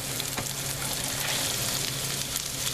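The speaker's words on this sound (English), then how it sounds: "I'm going to slide this cabbage off into there." Cabbage hits a hot pan and sizzles loudly and steadily, a dense close frying hiss with a few small crackles and scrapes throughout.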